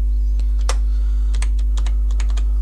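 Code being typed on a computer keyboard, a quick sequence of close, crisp keystrokes in uneven clusters over a loud constant low electrical hum, no voices.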